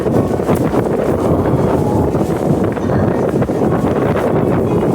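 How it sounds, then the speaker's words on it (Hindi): Very strong wind roars steadily across the Kashmir valley as the weather turns before the first snowfall, a loud, continuous gusting rush with no talk over it. "बहुत तेज हवा।"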